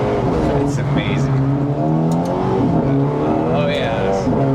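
The MINI John Cooper Works racing car, built by Bulldog Racing, drones loudly from the cabin at steady revs, with its engine harmonics rising and falling slightly and speech mixed in over it.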